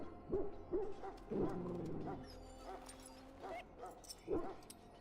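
A dog in Dragon Age: Origins gives a series of short barks and whimpering yips at irregular intervals, set against a low game ambience with a faint sustained tone.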